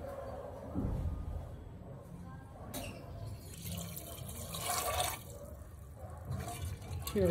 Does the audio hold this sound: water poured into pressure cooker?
yes